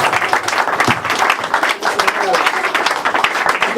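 Church congregation applauding and cheering together, a dense steady wash of clapping and voices filling the room for a few seconds without pause.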